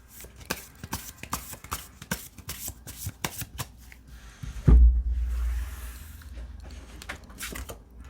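Tarot cards shuffled in quick, crisp bursts of rapid flicks, followed by a soft thud as the deck is set down, with no talk.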